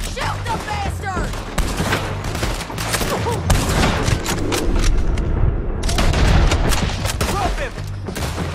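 Gunfire in the video game Red Dead Redemption 2, in the epilogue: dense overlapping shots and bursts of rapid fire rattle continuously, with booms and shouting voices mixed in throughout.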